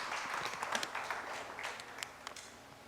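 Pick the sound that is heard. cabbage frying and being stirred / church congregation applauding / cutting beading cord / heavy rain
church congregation applauding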